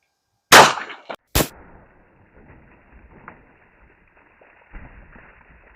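A Canik Rival pistol fires a Hornady Critical Defense round outdoors, one sharp loud crack followed quickly by a second similar bang, then quiet ambient noise with faint birds.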